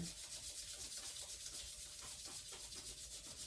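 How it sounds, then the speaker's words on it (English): Hands and feet rubbing together at the end of a yoga session, a faint, steady, close-up swishing friction with repeated back-and-forth strokes. "Bend your knees, lift your feet, and rub your hands and feet together."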